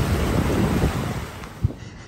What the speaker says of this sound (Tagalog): naririnig nyo yung impact ng alon